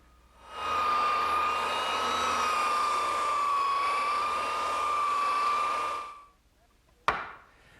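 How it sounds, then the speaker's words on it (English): Belt sander smoothing a wooden kitchen worktable top, a steady high whining hum for about five seconds that spins down, followed by a sharp knock. "So now's the time for me to take my belt sander and smooth it out."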